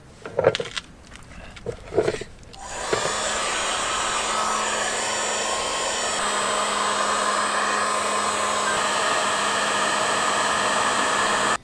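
A heat gun blows steadily on vinyl applied to a tail light, a loud continuous airy roar that follows a few short handling knocks and bursts at the start and keeps going without a break to the end.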